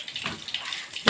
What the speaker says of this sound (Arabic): انا دلوقتي نزلت كده ميه في الحمام